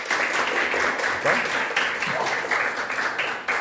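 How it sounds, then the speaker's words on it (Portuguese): A school class applauds to vote for a drawing, a steady patter of many small hands clapping at moderate distance, with a brief spoken word partway through. "Quem gostou desse pode aplaudir."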